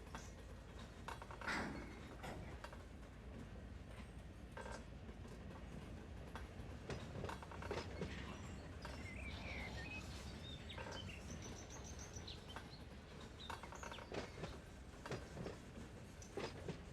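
A freight train rolls on rails in the Run 8 Train Simulator game, a faint steady rumble with occasional clicks of wheels over rail joints and a few brief bird-like chirps, no talking.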